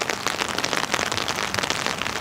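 Rain falls steadily outdoors with a dense, even hiss of drops hitting the ground, and no voices are heard.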